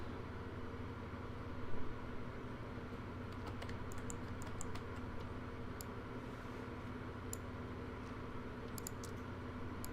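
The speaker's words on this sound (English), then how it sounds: "sorry if you can hear like the mouse and the clicking" Computer mouse clicks and keyboard typing during a livestreamed game session, faint scattered clicks and taps over a steady computer hum and background noise, with no talking.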